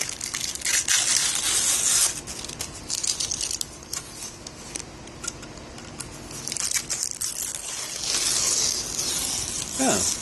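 Crackling, crinkling rustle of stiff parchment paper being slowly peeled away from cured epoxy on a carbon bike frame, close up and continuous with brief pauses.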